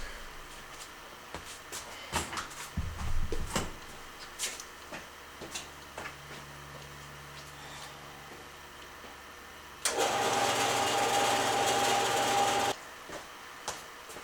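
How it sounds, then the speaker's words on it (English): A bandsaw cuts a part for a 2005 Jeep TJ A/C line repair, running in a steady whir for about three seconds amid scattered clicks and handling noises in a workshop. "run this thing over to the bandsaw here real quick"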